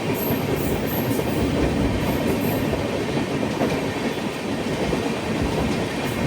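The Vivek Express rolls into Trivandrum Central station with a steady, loud rumble of wheels on rails and a faint rhythmic clatter, heard continuously from on board the train.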